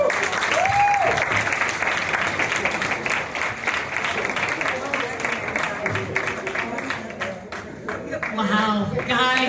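Comedy club audience applauding a comedian after a stand-up set at a comedy factory venue; steady, dense clapping throughout with some crowd noise and a voice speaking over it near the end.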